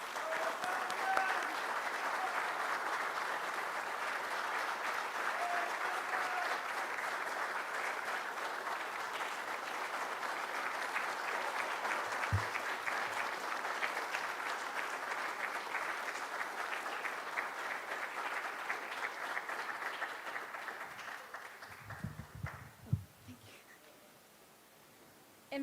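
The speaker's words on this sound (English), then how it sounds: "Let's please give my daughter, his sister, your niece, a warm round of applause." Audience applause for a woman being introduced at an Albinism Awareness Day gathering, a long, even wash of clapping that holds steady for over twenty seconds before tapering off, with a few low thumps near the end.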